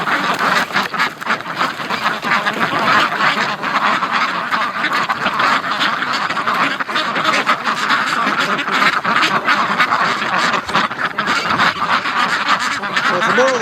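Breeding ducks in kiddie pools quack loudly and continuously at close range, a busy, overlapping chorus of calls with splashing fowl and no pauses.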